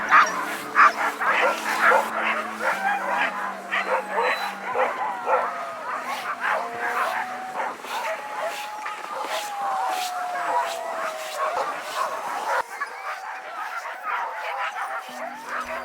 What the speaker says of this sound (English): So these are the working dog kennels where they're all kept to.